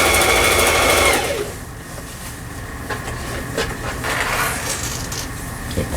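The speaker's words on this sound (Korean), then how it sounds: "옷감의 가장자리에 오버록 스티치를 이용해서 바느질을 직접 해보겠습니다." A Singer 4423 sewing machine runs an overlock stitch along a fabric edge, a fast rapid clatter that starts loud, then eases into a steadier mechanical chatter, close by with no voices.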